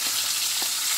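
Dried salted herring fries in a pan with a steady, close, loud sizzle and crackle, with no talking.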